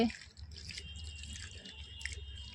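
Water poured onto potted poppy plants, a soft continuous trickling and splashing with a few drips, close by and fairly quiet.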